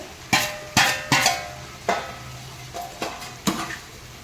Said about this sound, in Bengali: এবারে এই চুনো মাছগুলো গায়েতে ছেড়ে দেব